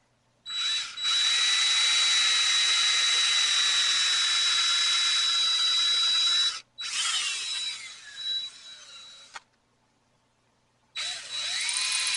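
An electric drill whines loudly boring holes in long continuous bursts, stopping briefly between runs, with a steady high pitch and no talking.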